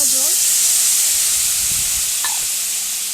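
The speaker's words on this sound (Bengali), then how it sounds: "মশলাটাকে ভালো করে একটু কষিয়ে নেব অল্প একটু দিয়ে দেবো জল" Spiced masala of turmeric and chili powder sizzles and hisses loudly in oil as a little water goes in, a constant steamy crackle with a brief stir and faint background voices.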